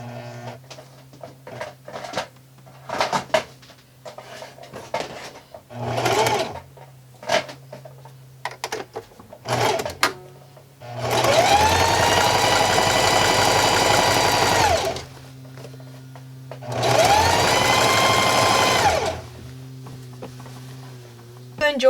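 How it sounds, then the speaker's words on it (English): A sewing machine zigzag stitching a skirt hem runs in two steady stretches of several seconds each, loud and close, after a few brief starts, with someone talking between runs. "I'm going to hem the bottom of my skirt, and I'm going to stick with the zigzag stitch as well on this."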